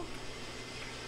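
Eucalyptus hydrosol mixed with a little oil pours into a container, a short, soft, steady liquid trickle at low volume.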